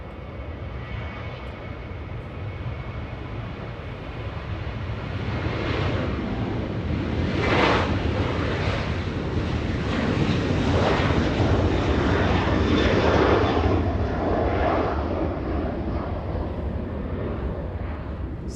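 A Southwest Airlines airliner departs LAX, its jet engines building into a loud, sustained roar that swells mid-way and holds steady with broadband rushing noise, heard alone without talk.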